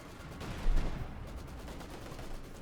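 Gunfire in the World War II strategy game Company of Heroes 2, a short burst of distant, crackling shots with one heavier thump near the start, ongoing at a moderate, steady level without talk.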